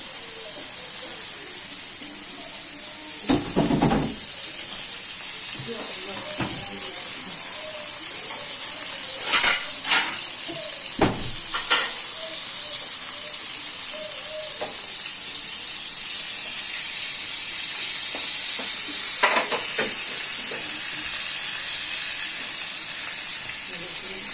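Tilapia fish cooking in a covered pan, giving a steady bright sizzle and hiss throughout with occasional louder crackles and pops.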